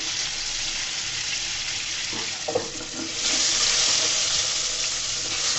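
Crushed onion, ginger and garlic paste fries with chicken on low heat in a pan, giving a steady close sizzle with a few stirring scrapes and a brief louder hiss.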